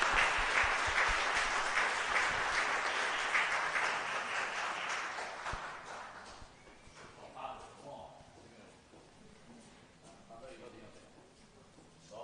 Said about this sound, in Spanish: un fuerte aplauso para este niño